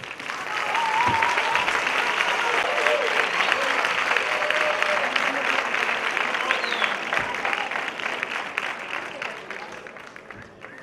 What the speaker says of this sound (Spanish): Vamos a recibir con un fuerte aplauso para las alumnas de la Escuela de Gimnasia Rítmica